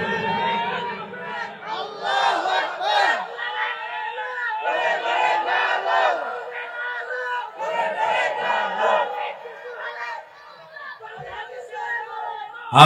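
A large outdoor religious gathering in Cox's Bazar, with a crowd shouting Allahu Akbar in repeated loud, rhythmic group bursts, separated by brief pauses.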